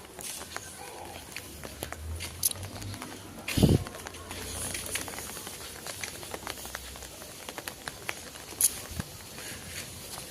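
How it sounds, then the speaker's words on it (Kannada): Heavy rain falls in a continuous, soft patter, fairly faint overall, with a few sharper drips or thumps standing out. "ಫುಲ್ಲು ಮಳೆ ಇದೆ, ಕ್ಲೈಮೇಟ್ ಒಂಥರ ಇದೆ."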